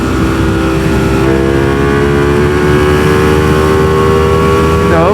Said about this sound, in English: So this loud ass motorcycle, I can turn it down without all the clipping.